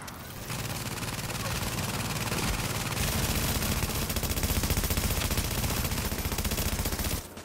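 Rapid automatic gunfire from a deployable turret shooting at a boss enemy in the video game The Division, a dense continuous rattle of loud bursts lasting several seconds with a voice briefly heard beneath.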